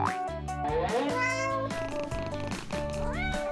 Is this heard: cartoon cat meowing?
yes